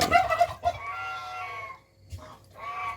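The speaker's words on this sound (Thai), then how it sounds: "มีเสียงเป็ด เสียงไก่ เสียงห่าน" Chickens cluck and a rooster calls close by at a rural home where food is being prepared, loud bursts at the start, then a pause and two shorter squawking calls, with no talking.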